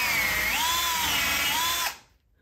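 A power drill with a countersink bit whirs steadily as it bores a screw-head recess into wood for a DIY cat shelf, its pitch dipping and rising under load before it cuts off abruptly.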